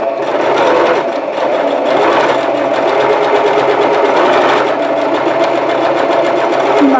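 Sewing machine running steadily and close for several seconds, back-stitching through a quilted oven mitt made from jelly roll fabric strips, a continuous rapid mechanical whir with no voices.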